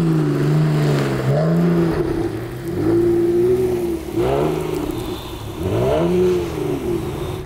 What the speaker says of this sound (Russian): посмотрим, как ездит боком этот 911-й